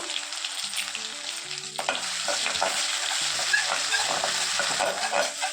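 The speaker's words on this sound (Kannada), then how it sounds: "ಶುಂಠಿ ಬೆಳ್ಳುಳ್ಳಿ ಪೇಸ್ಟು ಹಸಿ ಸ್ಮೆಲ್ ಹೋಗೋ ತನಕ ಚೆನ್ನಾಗಿ ಫ್ರೈ ಮಾಡ್ಕೊಳ್ಳೋಣ" Ginger garlic paste frying in a pan for a chicken or egg pickle, a continuous loud sizzle with scraping stirring strokes joining partway through.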